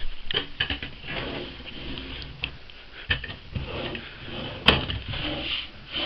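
An office desk drawer is pulled open to fetch paper, giving a run of sliding rumbles, soft knocks and rustles with a sharper clack partway through, close by and without talk.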